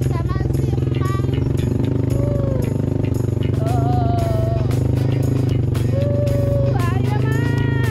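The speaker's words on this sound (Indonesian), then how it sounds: "Nih, emak lagi naik motor sama si Emang." A motorcycle ridden along a bumpy road, its engine droning loud and close throughout with rattling clatter, while voices talk over it.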